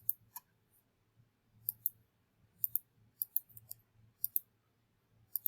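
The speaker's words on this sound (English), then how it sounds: "So I keep clicking that button below." Sharp, quiet computer mouse button clicks, single and in quick pairs, scattered irregularly over a faint low hum, close up with no talk.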